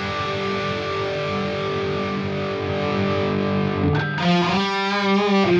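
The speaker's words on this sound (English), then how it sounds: "what I think might be the new favorite for 5150 style tones, the Peavey Vitriol Lead" Distorted electric guitar through a Helix modeller's Peavey Vitriol Lead amp model, a 5150-style high-gain tone, playing sustained chords that change near the end into a chugging, rhythmic riff, loud and alone.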